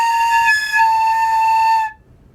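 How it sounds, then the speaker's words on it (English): A flute overblown with too much breath gives a single sustained, bright and slightly strained tone, close and loud, holding steady for about two seconds before cutting off. "Or if you're blowing too hard, it might sound like this."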